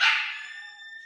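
A dog gives a single loud, close bark with a ringing tonal tail that fades over about a second, heard on its own with no speech.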